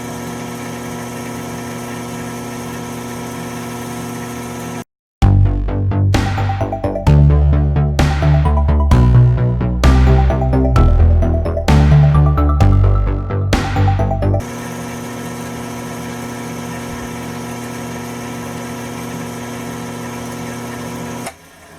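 A wood lathe spins while a red slimline ink pen is polished on it, giving a steady mechanical hum at the start and end, with a stretch of plucked music covering the middle.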